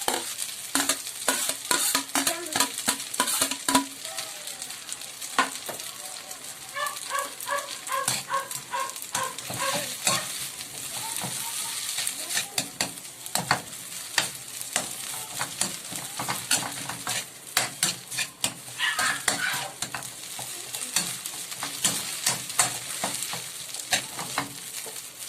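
Scrambled egg is stirred into chicken pares frying in a pan, a continuous sizzle broken by frequent scraping and clinking from the utensil against the pan, with no talk over it.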